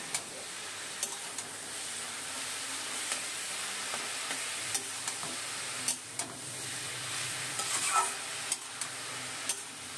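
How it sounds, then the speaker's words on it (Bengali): Red amaranth greens are stirred in a pan with salt, turmeric and sugar: a soft, low hiss broken by quiet, intermittent spatula taps and scrapes. "এখন নুন, হলুদ, চিনি ভালো করে শাকের সাথে মিশিয়ে নেব।"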